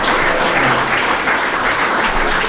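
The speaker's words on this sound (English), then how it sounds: "give a round of applause for our basketball players and the team and parents" A crowd at a boys' state basketball pregame event applauds the players, team and parents, a thick, steady roar of clapping that stays loud and even throughout.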